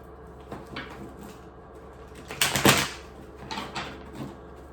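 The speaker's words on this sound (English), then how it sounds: "I'm going to shuffle these real good." Soft riffling and shuffling of tarot cards, with a brief louder flurry near the middle and a few lighter shuffles around it, close and otherwise quiet.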